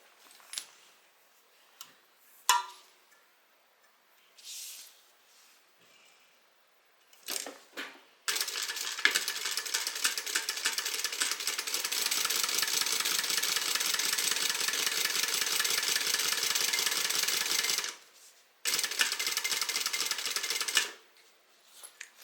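Home sewing machine stitching fabric while attaching a zipper: a few short isolated whirs and clicks first, then a long steady rapid run of buzzing stitches for about ten seconds, a brief pause, another burst, close and fairly quiet.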